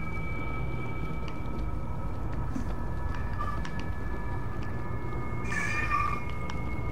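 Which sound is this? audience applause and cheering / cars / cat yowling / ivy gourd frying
cat yowling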